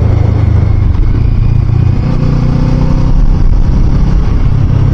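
A 2022 Kawasaki Z650RS motorcycle leaning through a set of twisty corners, its engine droning steadily and loudly close by, mixed with constant wind rush and no pauses.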